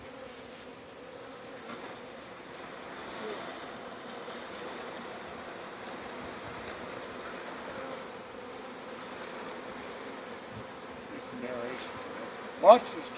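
Steady, dense buzzing of many honey bees being loaded into a hive, a continuous droning hum with a brief sharper sound near the end.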